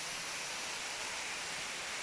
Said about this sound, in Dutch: Een hele mooie waterval. Dit is de waterval Sing Sing.